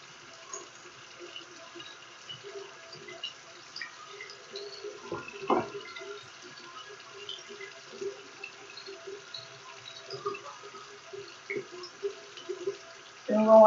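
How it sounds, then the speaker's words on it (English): Faint, steady trickle of tap water runs into a sink while hands are washed, with soft splashes and drips over a quiet room. "And I'm going to wash the back of my hand."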